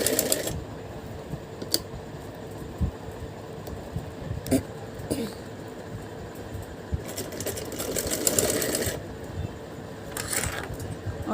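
A domestic sewing machine stitches lace onto fabric for a small lehenga choli, a steady, moderately loud mechanical chatter continuing throughout with faint handling noises.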